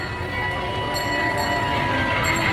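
A train passes close by with a loud, continuous rolling rumble and grinding wheels on the rails, steady throughout, with faint high squeals briefly rising above it.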